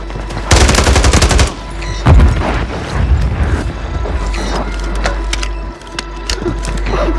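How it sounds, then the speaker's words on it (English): Loud bursts of automatic gunfire from Call of Duty Warzone on Rebirth Island, a long rattling volley followed by shorter close-range shots and impacts with continuous game noise underneath. "Getting shot in your back."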